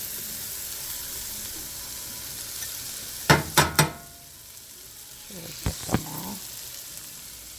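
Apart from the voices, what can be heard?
onions sauteing in melted butter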